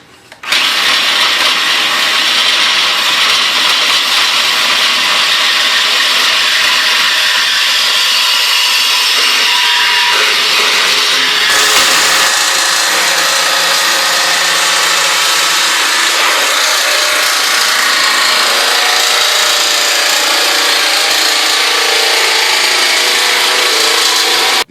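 A power tool saws steadily through a Trane furnace heat exchanger, giving a loud, continuous, harsh grinding whine. It runs unbroken for about twenty-five seconds and shifts slightly in tone partway through.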